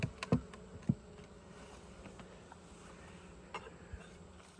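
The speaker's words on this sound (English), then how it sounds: "Don't want to squish any bees." Honey bees buzzing faintly around an open hive during an inspection, with a few soft knocks and handling sounds near the start.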